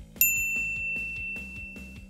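A single bright notification bell ding strikes sharply near the start and rings on with a sustained high tone over low rhythmic background music, with no talking.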